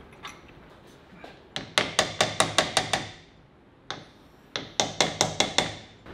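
Hammer blows seating a Harrop Truetrac differential, two close bursts of sharp metallic whacks, a quick run of about seven then another of about six, with quiet pauses between.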